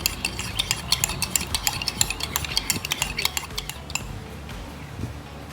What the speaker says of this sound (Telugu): హాఫ్ అన్ అవర్ నుంచి నేను కలుపుతూనే ఉన్నాను, అయినా రాలేదు.